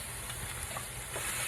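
Sausage and bacon sizzle and crackle steadily in a hot pan for Zuppa Toscana, a close, continuous frying hiss with no talking.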